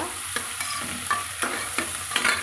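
Chopped tomato is stirred into sizzling mutton biryani masala, giving steady frying crackle with repeated scraping stir strokes at close range and no voices.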